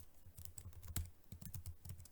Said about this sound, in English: I'm just going to click the backspace key, delete all that there, and let's type body temperature